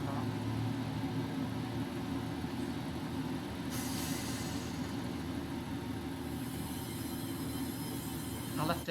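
A four-car Class 142 Pacer train in Train Simulator rumbles steadily along the rails as it brakes, with a hiss and faint squeal of braking rising over the continuous, fairly loud running noise.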